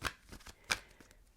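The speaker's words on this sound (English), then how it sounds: "Now, I'm going to shuffle those cards again" Tarot deck being shuffled by hand, a few quick riffling bursts and soft card slaps in a quiet room, close and fairly faint.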